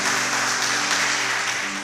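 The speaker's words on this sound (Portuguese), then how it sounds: "Você pode aplaudir o Senhor bem forte aí do seu lugar?" Church congregation at an evening worship service applauds, a loud, even wash of clapping with a faint steady hum beneath, continuous and fading slightly at the end.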